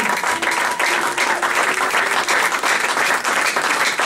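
A church congregation claps and cheers loudly for Pastor Carlito Lassa, a dense, continuous wall of applause at close range that holds steady throughout.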